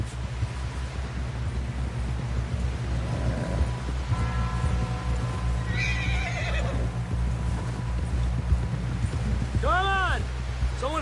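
A horse in Red Dead Redemption II whinnies twice, loud and close, over steady clip-clop hooves and continuous rumbling background, with a higher whinny near the end.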